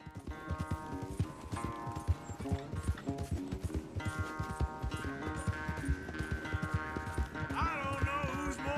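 Horses galloping in a race in Red Dead Redemption 2, rapid hoofbeats drumming steadily and fairly loud beneath a music score.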